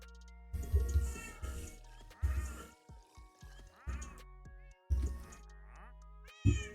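Cats meowing in a video game, a series of short separate meows coming every second or so, clear and fairly close over a quiet background, with no voices.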